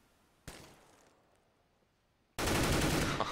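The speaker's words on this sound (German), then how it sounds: "Ergo geht dann down gegen der Fix, der immer noch die MP9, die MP7 spielt" MP7 submachine gun fire in a competitive shooter game: a single sharp shot that decays, a short pause, then a loud sustained rapid-fire burst up close.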